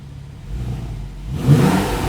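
With sport mode switched off, a Porsche 911 991.1 Targa 4S's naturally aspirated 3.8-litre engine starts quiet, then climbs into a louder rev near the end, the note swelling and staying up.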